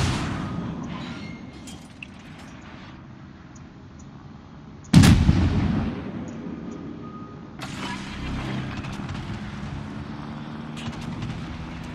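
A heavy cruiser firing armour-piercing shells in a World of Warships naval battle: one loud booming salvo cuts through a steady rumble of engine and sea noise, followed by lingering roar and distant mechanical sounds.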